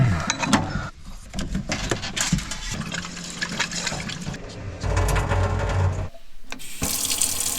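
Water runs steadily from a swan-shaped kitchen faucet into the sink in an off-grid wilderness home, a continuous close splashing flow with brief pauses and shifts in pressure.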